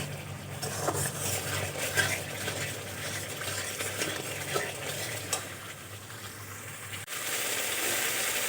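Spice masala being cooked down in a pan for an egg and cauliflower curry, with a continuous close sizzle, soft scraping stirs and occasional utensil taps against the pan, then a brief dip before the frying noise resumes.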